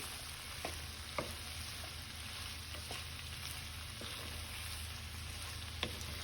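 Seasoned jerk chicken breast stir frying in a pan over medium heat, giving a steady low sizzle and hiss with a few soft clicks of stirring scattered throughout.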